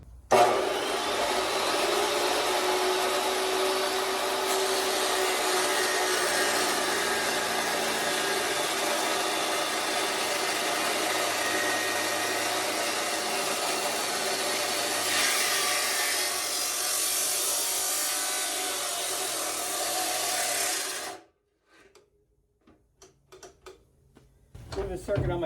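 Steel support tubing being cut for a Jeep Cherokee and Rambler hybrid build, a loud, steady, harsh grinding whine that runs continuously for about twenty seconds, then stops abruptly, leaving faint clatter and handling noises in a quiet shop.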